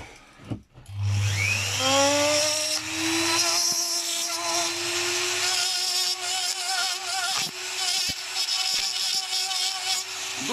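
A small rotary tool fitted with a two-flute cutter bit spins up into a steady, close, high whine, with faint intermittent ticks as it works the material.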